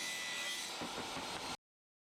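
Hand saw cutting through a vinyl gate piece, steady back-and-forth strokes close up for about a second and a half before stopping abruptly.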